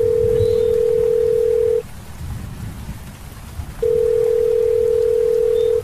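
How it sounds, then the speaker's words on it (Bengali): Mobile phone ringback tone heard after dialing a number: two long steady electronic tones separated by a pause, loud and clear over a dark, rainy ambience. "আমি মোবাইল ঘেঁটে সেই নাম্বারে ফোন করলাম"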